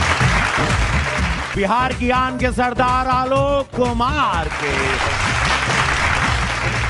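Loud, continuous audience applause welcomes singers onto the stage at a televised singing competition show. The clapping runs throughout while a host's amplified voice announces over it.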